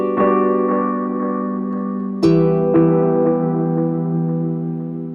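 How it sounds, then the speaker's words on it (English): An electric guitar through a Therme tape pedal with no Bat Sim, sustained chords ringing loud and clean with a slight tape warble, a second chord struck about halfway and a lighter strum after. "without the Bat Sim, Therme sounds like this"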